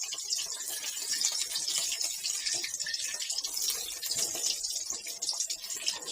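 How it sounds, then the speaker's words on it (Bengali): Large puti fish frying in a pan, a steady, loud hissing sizzle that holds unbroken throughout without pauses. "ফিশ ফ্রাই করা হচ্ছে।"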